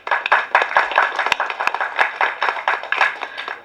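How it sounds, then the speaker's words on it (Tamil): A crowd claps steadily throughout, a dense, close patter of many hands with a few louder individual claps standing out, responding to a speech at a political event. "தட்டுங்க சார்."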